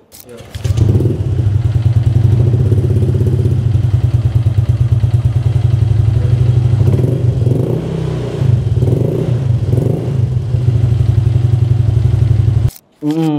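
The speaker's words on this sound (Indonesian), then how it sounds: "ini salah satu knalpot yang gue juga suka karena suaranya adem" A Honda Vario 125 scooter with a fully baffled aftermarket exhaust idles with a deep, steady rumble, loud and close, with some throttle blips before it cuts off near the end.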